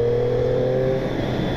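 A Triumph Street Triple S 660 motorcycle engine revs loud and close, a strong steady tone that holds and then shifts as the revs change over a short moment.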